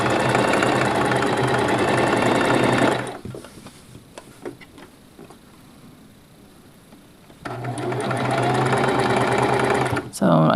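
A sewing machine stitches a drawstring bag seam in two loud steady runs, stopping for a few seconds of quiet handling in between before the motor starts up again.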